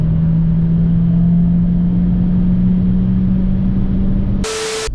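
A 140 kW Nissan Juke 1.6 turbo engine drones steadily from inside the cabin at night, a constant low hum with road roar, cutting to a brief burst of hiss near the end.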